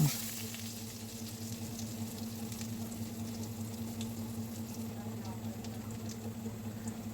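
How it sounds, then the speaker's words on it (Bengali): Chopped onion frying in oil with bay leaves and whole garam masala, a soft steady sizzle close by with occasional stirring, running quietly throughout. "পেঁয়াজ কুচি দিয়ে আমি কিছুক্ষণ নেড়ে চেড়ে পেঁয়াজটা গোলাপি করে ভেজে নেব"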